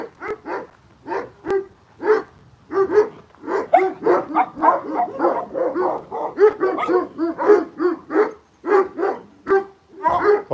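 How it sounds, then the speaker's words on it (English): Several dogs bark insistently at people nearby, a dense run of close, overlapping barks and yips that continues without pause. "Dogs are all barking at us."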